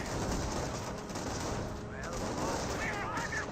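Gunfire crackles steadily through a Company of Heroes battle, with rapid bursts and shots layered over constant combat noise, and a few faint chirping tones briefly rising above the din.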